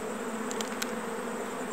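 A steady, close buzzing of bees hums throughout, with a few brief higher-pitched whines passing near.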